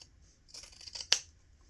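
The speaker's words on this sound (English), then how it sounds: "here we're going to trim all of the seam allowances except for along the opening" Scissors trimming fabric seam allowances on a small sewn gift bag: a brief close rustle of cloth and blades, then one crisp snip.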